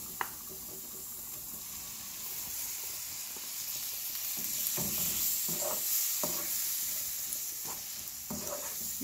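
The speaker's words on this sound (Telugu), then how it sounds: "ఇవి వేగిన తర్వాత ఇప్పుడు టమాటా ముక్కలు వేసుకోవాలి" Tomato pieces hit spices frying in a pan for spicy palak paneer, making a soft, continuous sizzle with hissing steam and irregular stirring scrapes, moderately quiet and without voices.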